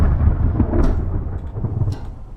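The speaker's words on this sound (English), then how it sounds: "especially during a thunderstorm" Thunder rolls through a thunderstorm in a played-back video, a loud, continuous low rumble with rain, swelling and fading without any voices.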